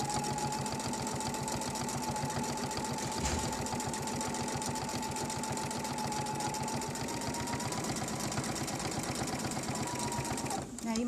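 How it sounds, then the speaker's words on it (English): Sewing machine set up for free-motion stitching runs at a steady fast rhythm, its rapid needle strokes and motor whine close and continuous, with a brief pause near the middle and a short stop near the end. "So we're just going to do a little bit of stitching."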